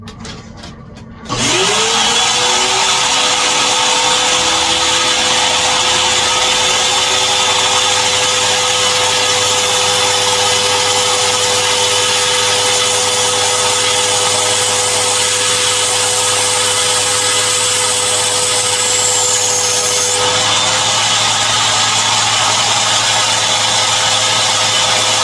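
A vacuum cleaner drawing air out of a plastic storage bag runs loud and steady for about twenty seconds, its motor tone holding constant until it cuts off near the end.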